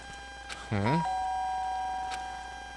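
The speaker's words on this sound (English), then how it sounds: "The sharp sound of the doorbell pierced my sleepy haze and pulled me back to the real world." A doorbell in the video game Danganronpa gives a short, bright electronic ding-dong over a quiet background, followed by a lingering sustained tone that slowly fades.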